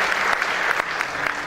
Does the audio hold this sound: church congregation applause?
yes